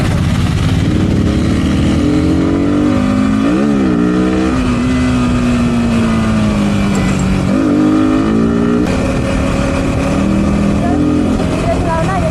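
A vehicle driving through city traffic at about 40, its engine droning steadily and close, with pitch rising and falling as it speeds up and eases off.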